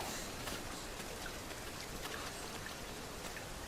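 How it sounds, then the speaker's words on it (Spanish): Steady rainfall in Dragon's Dogma 2 on the Xbox Series X/S, on the long walk toward Harve Village, with an even, dense wash of drops that holds constant throughout and no voices over it. "Que está lloviendo."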